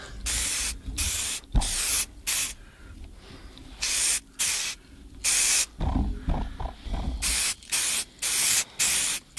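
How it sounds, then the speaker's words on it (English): Repeated bursts of aerosol spray paint hissing close by, outdoors while painting a chain link fence, short blasts of about half a second each separated by brief pauses, steady and rhythmic. "Instead, I'm doing spray paint."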